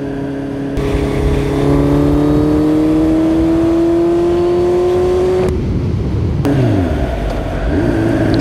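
A Honda CB650R four-cylinder motorcycle pulls hard in sixth gear from around 90 on a fast road, its engine note climbing in one long, loud, smooth rise before easing off and rising again briefly.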